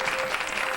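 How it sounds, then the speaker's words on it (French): Brief burst of studio audience applause on the TVA quiz show Ultimatum, a dense, steady wash of many hands clapping together at close range with no voices over it. "Ça vaut un applaudissement, ça, hein?"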